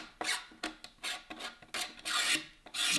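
A knife blade is dragged down a surface on a Ford Bronco build, giving about eight rasping scrapes in a steady back-and-forth rhythm, close and fairly loud, with no talk over them.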